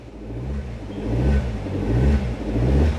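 A manual car's engine hums close by and rises as the accelerator is pressed while the clutch comes up, a steady low rumble that swells in a few gentle surges.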